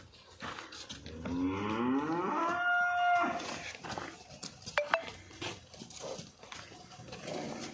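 A Nili-Ravi buffalo at a farm in Zira, Ferozepur, gives one long, drawn-out moo close by, rising and wavering, followed by a few faint knocks and rustles in a quiet farmyard.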